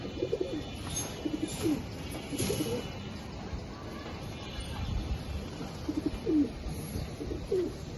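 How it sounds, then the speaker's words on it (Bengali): Male domestic pigeons, including a short-beaked variety, cooing in a few soft low bursts spread through the clip over a steady background hiss, no talk present. "হ্যাঁ, এটা হচ্ছে নর কবুতর।"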